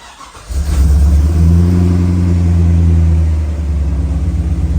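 A 5L V8 in a crash-damaged Holden VT Clubsport being rebuilt starts up with a quick crank and catches, then revs in a deep, loud, steady rumble with rising and falling throttle, close by and without speech.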